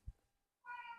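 A male cat meowing behind the camera. A dull thump comes first, then after a brief quiet a clear, close, drawn-out meow.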